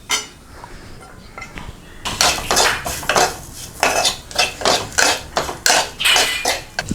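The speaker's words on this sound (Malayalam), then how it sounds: "നന്നായിട്ട് ഇളക്കുക" Spice powders are stirred in a cooking pan, the spoon scraping and clinking against the metal in a quick regular rhythm of loud strokes after a quieter start.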